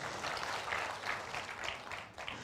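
Church congregation applauding in praise during a sermon, a steady wash of many hands clapping at moderate level throughout, without talk.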